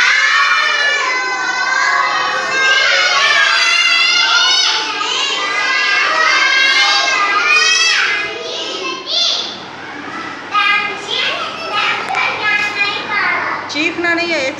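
Many children chant and shout loudly together in an Islamic class, a dense, continuous chorus of young voices that grows more ragged and broken toward the end.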